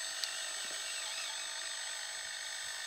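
Large RC Caterpillar D10T bulldozer model running at quarter throttle outdoors, giving a steady high-pitched electric whine that holds constant and fairly loud for a few seconds, with no one talking.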